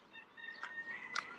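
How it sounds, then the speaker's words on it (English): Chickens in a valley near ancient burial caves, a few faint clucks and short calls from nearby birds over a quiet outdoor background with a steady faint tone. "Here, chickens, there's a whole thing going on here."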